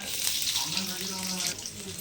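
Four medium-sized sliced onions sizzling in hot oil in a pan, a steady broadband hiss filling the short clip with faint crackles and a low hum beneath, loud and close throughout.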